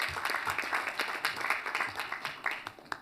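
Audience applause for a speaker at a formal conference event, a dense, steady wash of many hands clapping throughout, fairly loud and without voices over it.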